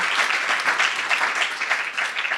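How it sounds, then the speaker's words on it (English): Lecture-hall audience applauding to welcome a speaker at a distinguished innovator lecture, a dense, even patter of clapping lasting a couple of seconds with no talk over it. "Let's see if we can maybe, with an applause, start to welcome Dr. Vivienne Ming."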